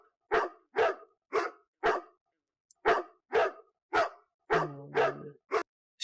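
A rapid series of sharp warning barks from Dottie, a video-game dog character, fires off in quick rhythmic bursts with a brief pause partway and a low growl-like tone underneath near the end.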